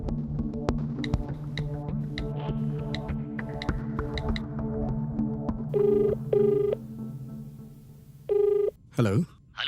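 A telephone rings in a Hindi political action thriller film scene, with three clear repeating electronic ring bursts that follow earlier background music and sound effects.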